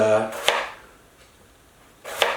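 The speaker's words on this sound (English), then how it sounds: "and then maybe just 2 or 3 cuts on each side like this" A knife cuts into a large potato, making two sharp chopping strikes about two seconds apart, each a crisp thud against the board, close and clear with quiet between them.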